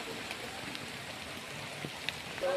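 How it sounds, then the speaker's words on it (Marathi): Steady rain falls at the Lokottara Buddha Vihara in Bhalgaon during the monsoon retreat, a continuous broadband hiss of drops with no pauses, fairly close and even throughout the short stretch. "या प्रमाणात पाऊस आहे।"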